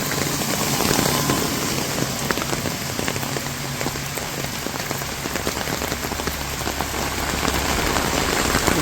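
Daytime rain pours steadily on a windy day in a rural Bangladeshi village, a dense continuous patter of drops on surfaces with no voices.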